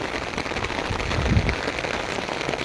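Torrential rain pours down in Taunsa Sharif, a dense, steady hiss of drops striking surfaces, loud and continuous with no voices.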